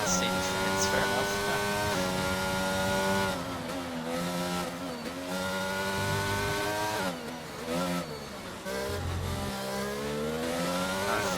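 A McLaren race car in a racing video game howls at high revs through one continuous, loud pass, the pitch rising and dropping with gear changes and braking, with faint tyre noise underneath.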